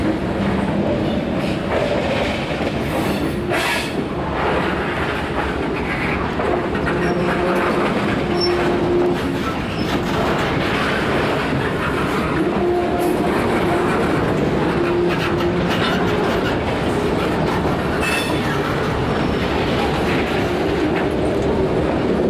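Freight train of locomotives and boxcars rolling past close by, a loud continuous rumble with rhythmic wheel clatter and occasional faint squeals throughout, with no talking.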